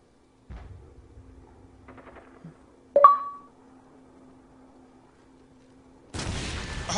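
A grenade goes off in a shooter video game as one sharp, loud burst that fades quickly, set amid faint in-game tones and beeps, with a broader rumbling noise rising near the end.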